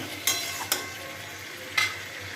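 Spices being stirred in a frying pan for a katla fish curry with potato and ridge gourd, heard as three short, sharp scraping strokes over a faint steady sizzle.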